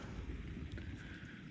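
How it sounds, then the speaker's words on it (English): A storm on the Canadian coast brings rough, pounding ocean waves and buffeting wind, a loud continuous roar dominated by deep rumbling and mic-blasting gusts, with no speech. "You can hear the ocean roaring over here."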